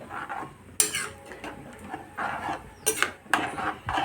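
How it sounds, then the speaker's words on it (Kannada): Metal clatter of a pressure cooker lid being closed in a home kitchen while cooking green chilli chicken: several sharp clanks and scrapes at irregular intervals, close and fairly loud, with no talk. "ಇವಾಗ ನಾನು ನಮ್ಮ ಕುಕ್ಕರ್ನ ಮುಚ್ಚಳ ಮುಚ್ಚಿದೆ."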